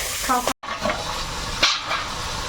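Large river bele fish coated with chilli powder fry in a wok in a Sundarban kitchen, a close, continuous sizzle broken by scraping stirs, with a brief cut partway through.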